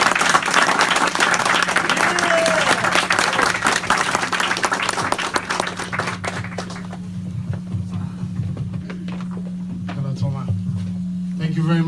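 An audience applauds at a live Irreecha cultural event as designer Yadasa Bojia is welcomed, a dense sustained clapping that fades after several seconds over a steady hum, with a voice speaking briefly.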